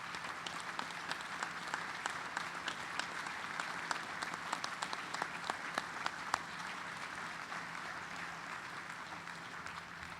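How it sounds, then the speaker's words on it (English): Sustained applause from a gala awards audience, steady dense clapping that holds at an even level for about ten seconds with no voices over it. "Let's give him a nice round of applause."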